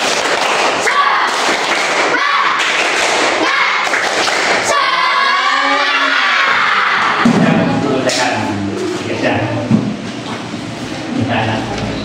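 A classroom group claps together in a quick, loud rhythmic pattern of spirited clapping, close and dense, with voices and chatter mixed in around it.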